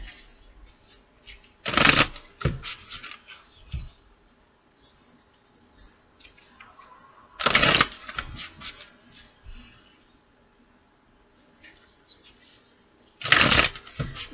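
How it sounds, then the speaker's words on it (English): A tarot oracle deck is shuffled in three quick riffling bursts spaced several seconds apart, with soft handling and tapping of the cards in between. "One more shuffle for Gemini."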